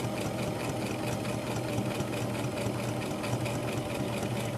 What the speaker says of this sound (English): So now we're just going to sew down the edge.